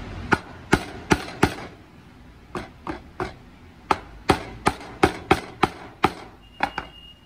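Repeated hammer blows drive a nail into play wood while building a homemade piggy bank, sharp close knocks coming in quick bursts with short pauses between them, and no talking.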